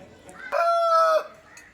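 A single loud, drawn-out rooster crow rings out close by at a poultry market, rising sharply and holding steady for under a second before breaking off, with faint market noise around it.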